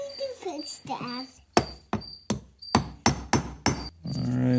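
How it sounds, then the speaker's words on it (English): A hammer strikes a bearing being driven into a Dixie Chopper mower transmission idler pulley, seven sharp metallic taps in a loose rhythm after someone speaks briefly at the start. "that's not tapping in here very easy with the hammer"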